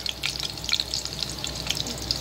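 Garlic frying briefly in a pan, a close, bright crackling sizzle with fine spitting pops over a low hum.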